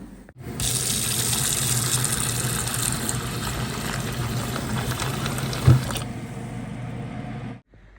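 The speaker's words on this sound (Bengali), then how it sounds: "এখন আমি এটা পানি দিয়ে ভিজিয়ে রাখবো" Water runs steadily from a tap onto dried fish to soak it for several seconds, a continuous gushing splash that stops abruptly near the end.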